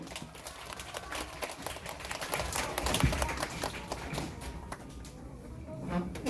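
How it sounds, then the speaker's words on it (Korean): Dense, steady applause from a group at a children's church service, many hands clapping together at a constant level for several seconds. "박수!"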